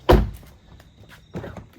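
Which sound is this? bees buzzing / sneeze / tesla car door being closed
tesla car door being closed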